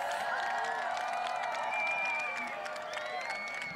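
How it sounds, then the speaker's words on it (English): A crowd gathered to watch the April 2024 total solar eclipse at Niagara Falls, Canada, applauding and cheering as totality ends. The sound is distant and steady, with voices and whistles mixed into a sustained outdoor roar. "Everyone applauding and cheering because they know that it has been the end of totality"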